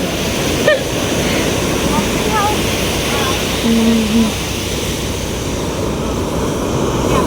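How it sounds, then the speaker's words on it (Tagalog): Steady broad roar of surf with waves washing in continuously, a faint brief tone and distant chirps over the rushing water. "Opo, may alon."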